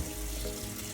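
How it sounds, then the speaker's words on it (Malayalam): Hot water pours steadily into a cooking pot in a home kitchen during chicken curry preparation, a continuous close splashing stream. "ഇനി ചൂടുവെള്ളം ഒഴിക്കും"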